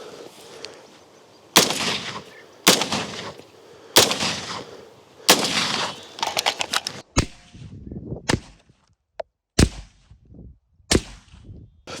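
Loud, sharp gunshots from an AR-15 rifle fired at armor crack out one after another at irregular intervals, including a quick rapid-fire cluster, close and echoing.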